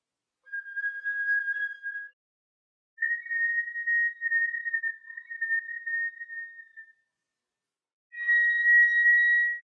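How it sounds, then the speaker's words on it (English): Thin, pure whistle tones on a flute sound high and soft in three sustained notes separated by silence, the last slightly higher and stronger. "The whistle tones may speak more easily."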